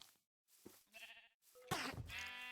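Minecraft sheep give a few short bleats, faint and scattered, with the last call louder and longer.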